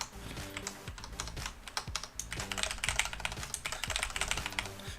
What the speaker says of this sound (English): just depends how fast you could type